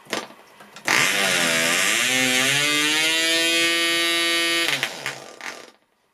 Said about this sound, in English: as the engine started up, Rich, the engine was bogged down and the revs were low, and the revs rose as it cleared the excess fuel out